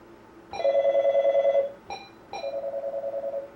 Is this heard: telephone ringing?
yes